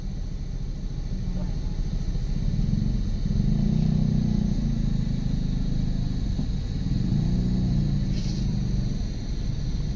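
Motorcycles and tricycles stream steadily past in close traffic at a Naic, Cavite subdivision entrance, their engines a continuous low rumble with swelling passes and faint clatter, with people talking over it throughout.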